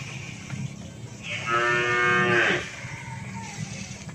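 A Madurese racing bull kept for kerapan sapi lets out one long, loud, close moo midway, with quieter farmyard rustling before and after.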